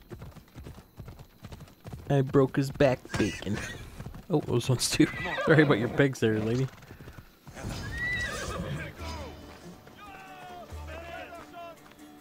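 In Assassin's Creed Odyssey, a horse gallops on rhythmic hoofbeats and lets out whinnying neighs, while someone talks over it and animal calls come in near the end.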